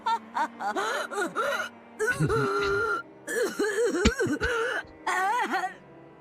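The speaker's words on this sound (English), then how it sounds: "Her insane laughter turned into a painful cough." Strained, painful coughing from a video game, broken by gasps and groans, comes in short ragged bursts, close up with nothing else around it.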